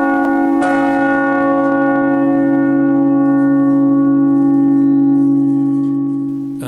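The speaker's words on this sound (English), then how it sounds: "a massive carved bell with an astonishing reverberation" A massive carved monastery bell in East India is struck once, then rings on with a deep, rich, sustained hum whose layered tones reverberate loudly and slowly fade, with no voices.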